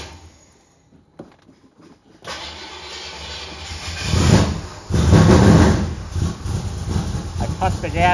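A retro car with an older dash starts up in the cold, its engine catching after a click and settling into a steady idle with revs rising and falling, while someone talks over it.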